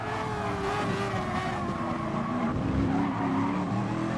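A race car in a racing video game at Fuji screams along at full throttle with a loud, continuous engine drone and a hint of tire squeal, close and steady with no voices.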